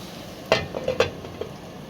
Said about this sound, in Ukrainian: кришкою смажу млинці